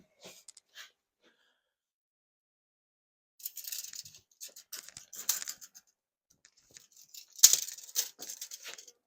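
Short metallic snips and clipping scratches from cutting lengths of wire with cutters, coming in scattered bursts after a quiet start, with louder sharp cuts near the end.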